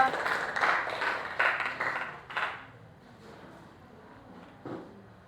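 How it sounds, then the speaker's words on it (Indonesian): Students in a high school physics class clap for a presenting group in a few short, uneven bursts that die away into sparse taps. "Oke, tepuk tangan untuk kelompok 2."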